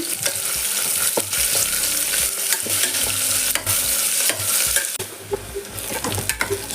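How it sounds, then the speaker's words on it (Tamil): Chopped onions sautéing in a pan for mushroom biryani, a continuous loud sizzle broken by frequent scraping and clinking stirs, close up with no talking. "ஆனியன் நல்லா வதங்கிட்டோம்"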